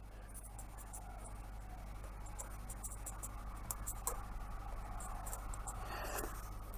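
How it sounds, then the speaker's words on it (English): A pencil scratches across paper while drawing a smile, giving a faint, close, continuous scratchy stroking with a few brief louder strokes near the end, heard alone in a quiet room. "I guess you could just draw a new smile"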